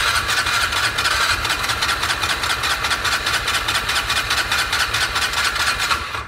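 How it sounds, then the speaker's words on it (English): An old engine that has sat unused for a long time, with stale fuel in the carburetor, cranks on a Milwaukee battery. It makes a fast, even, loud churning pulse for several seconds and nearly catches, with no voices. "It sounded like it wanted to start."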